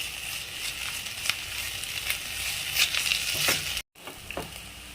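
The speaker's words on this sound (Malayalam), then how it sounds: "ഒരു ടേബിൾ സ്പൂൺ ഇഞ്ചി ചതച്ചതും ഒരു ടേബിൾ സ്പൂൺ വെളുത്തുള്ളി ചതച്ചതും കൂടെ ചേർത്ത് കൊടുത്തിട്ട് നന്നായിട്ട് ഒന്ന് വഴറ്റിയെടുക്കാം" Onion, crushed ginger and garlic sauté in a pan with a continuous close sizzle and a few stirring scrapes, broken by one brief silent gap near the end.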